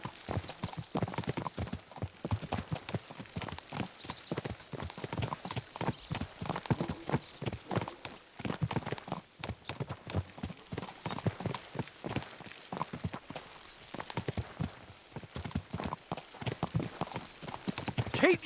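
Steady, close clip-clop of horse hooves walking along a road in Kingdom Come Deliverance 2, a brisk even rhythm that continues throughout, with brief spoken lines over it.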